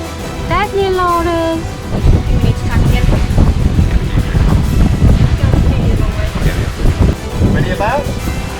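Strong wind buffets the microphone aboard a sailing boat, a constant roaring rush with bursts of gusting, while voices speak over it.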